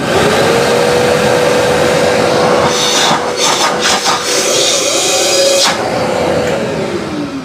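A Vacmaster 12-gallon wet/dry shop vacuum with a 2.5-inch hose runs steadily, giving a close, loud, constant whine and airy rush, with rubbing and scraping noises partway through.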